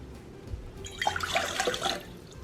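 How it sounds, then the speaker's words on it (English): Warm water pours into a bowl for cinnamon twist dough, a close splashing trickle that swells in the middle and tapers off, heard alone. "I'm going to add 1 1/3 cups of warm water."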